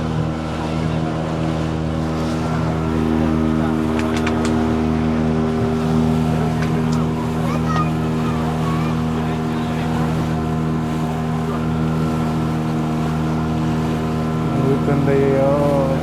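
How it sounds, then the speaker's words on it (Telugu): A motorboat engine drones loud and steady throughout a dolphin-watching ride off Goa, with wind and water noise around it and faint voices now and then. "పడవైతే ఊగుతుందండి."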